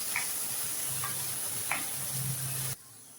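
A steady, close sizzle of onions frying in oil in a pan, with a couple of faint metallic clinks before it cuts off abruptly.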